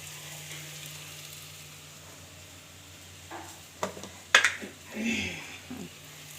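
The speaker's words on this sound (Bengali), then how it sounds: "আলু সিদ্ধ হয়ে গেছে, হালকা একটু নেড়ে নেড়ে দিতে হবে" Boiled potatoes frying in a pan make a soft steady sizzle, with a few clinks and scrapes of a spatula stirring them near the end.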